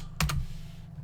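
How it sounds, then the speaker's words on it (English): A few quick computer keyboard keystrokes in a tight cluster, close and crisp, while a text box is filled in during a multiplayer game setup, with no talking. "So what we're typing in that text box is the IP address of the server."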